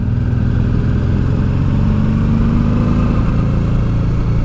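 Honda Deauville motorcycle engine pulling steadily uphill in low gear on a mountain pass climb, a loud continuous drone with a slightly rising pitch and no talk.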